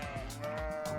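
A sheep bleats steadily for about a second, close and fairly loud, with no other sounds around it.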